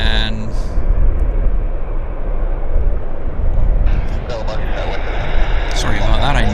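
A Bombardier Q400 turboprop airliner takes off at Vancouver International Airport, a steady, loud broadband engine roar that holds throughout, with voices talking over it.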